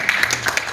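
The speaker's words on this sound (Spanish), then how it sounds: "un aplauso" A short burst of audience applause at a book fair event, with dense, steady clapping from many hands heard at moderate distance.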